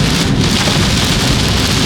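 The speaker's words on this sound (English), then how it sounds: "right now, it's pouring" Heavy rain pours down in Miami in a steady, dense roar with no pauses.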